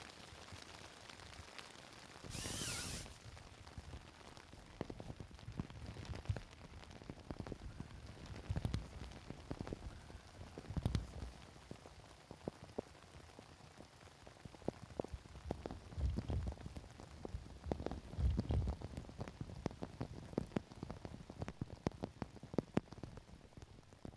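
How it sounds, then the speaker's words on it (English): Steady patter of rain drumming on a thin tent, with scattered louder drops and occasional soft thuds, fairly close and continuous throughout. "And it's really raining outside."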